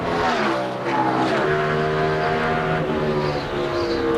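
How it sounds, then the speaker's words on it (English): Stock cars race on a Nextel Cup short track at the 2004 Chevy Rock & Roll 400, engines droning and revving loudly in a dense, continuous roar with shifting pitch as the field circulates. "racing on a Nextel Cup short track"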